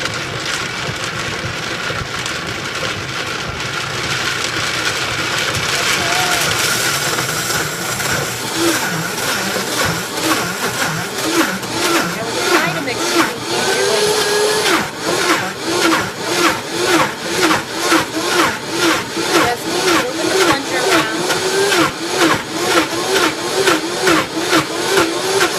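A Vitamix blender grinding almonds into almond butter, a loud continuous motor roar that shifts into a pulsing, churning rhythm as the thick mixture is worked.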